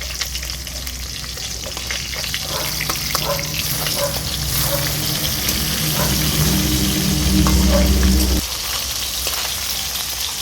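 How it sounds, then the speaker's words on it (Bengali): Puti fish fry in hot oil with a loud, continuous crackling sizzle close by. Occasional stirring scrapes sound throughout, and a low hum drops out near the end. "মাছগুলো ভালো করে ভেজে নেব।"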